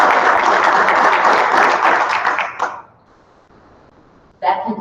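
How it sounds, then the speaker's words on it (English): Applause at a school board meeting for high school graduates, a dense burst of clapping that fades out after about three seconds, followed by a quiet room and then a short noise near the end. "I just want to give them a round of applause."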